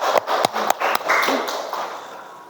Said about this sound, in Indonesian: Oke, tepuk tangan dulu kepada Nabila.